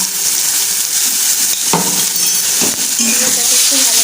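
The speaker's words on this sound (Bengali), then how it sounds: "এটাকে একটু ভালো করে কষিয়ে নেব" Spices with ginger-garlic paste sauté in a pan with a steady loud sizzle, punctuated by a few scraping stirs and light clinks of a utensil against the pan.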